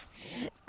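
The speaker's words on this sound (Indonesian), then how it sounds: "ini aromanya udah berasa pedesnya sampai batuk-batuk" Someone coughs sharply after breathing in the spicy aroma of gendot chili dish, a single loud burst following a quiet stretch.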